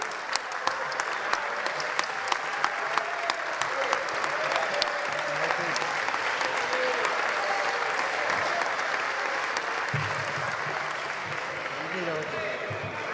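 Long, dense applause from legislators fills an Argentine congress chamber during a ministerial session, steady and loud throughout with scattered sharper claps early on and murmuring voices mixed in.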